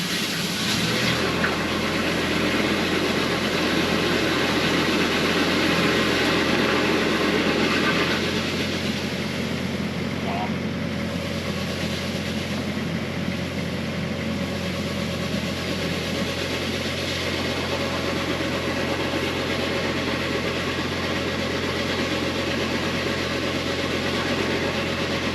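A drain jetting machine engine runs steadily and loudly during work on blocked hospital toilets, a continuous mechanical drone with no talk.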